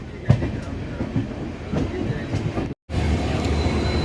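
A locomotive-hauled train at Hubballi railway station rumbles along at a moderate distance, with low steady rolling noise and a few faint clicks, broken by a brief dropout before the rumble resumes.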